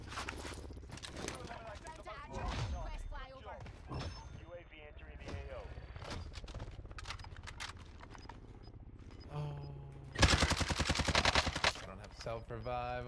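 Call of Duty Cold War Warzone gunshots crack in scattered bursts with footsteps around them, and a loud rapid volley comes near the end, all under frequent talking.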